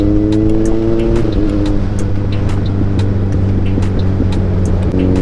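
A car pushes to overtake on a rain-wet mountain road, its engine droning steadily and loudly throughout with a rising, strained tone, tyre hiss and road noise underneath, no voices.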